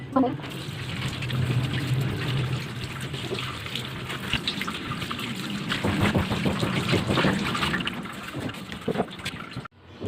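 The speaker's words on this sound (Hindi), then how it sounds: "तो ये आलू हैं, 6 आलू, और इनको अच्छी तरीके से हम धो लेते हैं।" Tap water runs and splashes as six potatoes are washed in a home kitchen, a continuous watery rush with a voice speaking over it.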